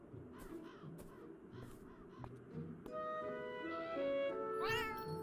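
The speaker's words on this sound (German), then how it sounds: "Hier höre ich die Katze wieder." A cat meows a few times in the video game Beyond Eyes, plaintive and fairly close, over a bed of ambient noise and soft music.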